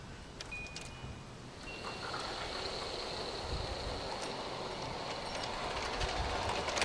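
Model railroad train on a home layout backing down slowly, its coupler slack being taken out, giving a faint steady rolling rumble with soft metallic clicks and a thin high whine, growing slightly louder, no talk.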